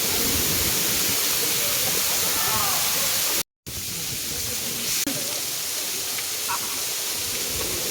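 Water flows behind a temple at Ahobilam as a steady, broadband rushing hiss that fills the whole stretch, broken once by a brief dropout partway through.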